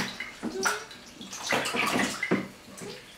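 Water splashes in several quick bursts in a small tub during a baby's first bath, close and moderately loud, with faint background sounds between the splashes.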